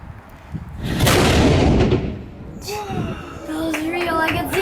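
A historic cannon fires at Fort Snelling with one loud, booming blast that rolls out over several seconds, followed by children chattering nearby.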